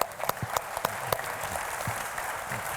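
A conference audience in Malta bursts into a round of applause, a steady wash of many hands clapping with a few sharp, close individual claps standing out near the start.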